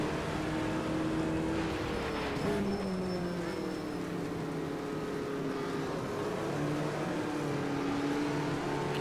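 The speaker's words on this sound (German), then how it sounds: "Ich hoffe, ihr hört es, wie das Getriebe und der Motor dann so runtergehen vom Sound her." A VW Beetle engine in the racing game Automobilista 2 hums steadily while its pitch falls in stages as the gearbox downshifts, with a synthetic, game-like tone, at the Curvelo track.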